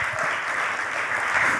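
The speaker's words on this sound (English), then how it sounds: "Come on, you need to clap hands." A church congregation claps hands together during an English sermon, producing a dense, steady wash of applause that stays loud and even throughout.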